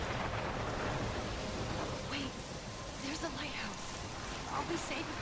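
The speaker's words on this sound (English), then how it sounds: "I'm trapped in a storm." Heavy rain hisses steadily through a thunderstorm in the Life Is Strange game, a dense wash of noise broken by faint crackles, with a distant rumble underneath.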